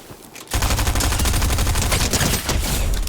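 Rapid automatic gunfire in Fortnite, a dense, loud stream of closely spaced shots that bursts in after a quiet half second and keeps rattling steadily to the end.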